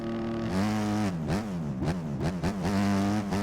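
A Suzuki RMZ 250 motocross engine in MX Bikes revs hard and then runs through repeated quick throttle blips and gear changes, loud and close, with the pitch rising and falling.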